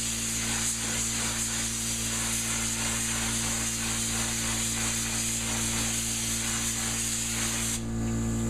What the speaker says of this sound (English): Now I'm spraying this.